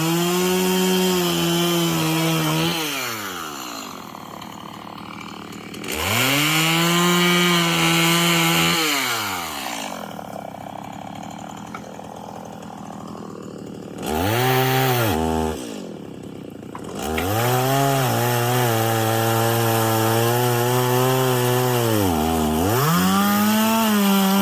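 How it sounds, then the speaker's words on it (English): A chainsaw cuts tree limbs in a yard, its engine revving up under load and dropping back to idle several times, loud and close with a steady buzzing whine. "just finished up with the chainsaw"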